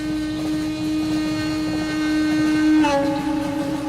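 A moving train in a film scene gives a continuous droning hum with a steady tonal whine over rolling noise, rising slightly in level before a brief shift near the end.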